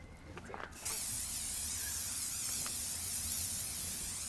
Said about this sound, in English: Adhesive spray. So your feet stick.